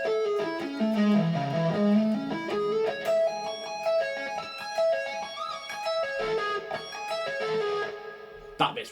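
Fast electric guitar tapping lick using pull-offs and hammer-ons, a flowing stream of quick legato notes that dip low and climb back up, played close and loud on its own, ending with a sharp final note.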